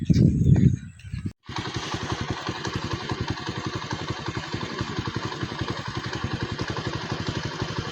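A scooter engine runs in a steady, rapid putter close by, settling into an even idle-like chug after a brief opening burst of noise.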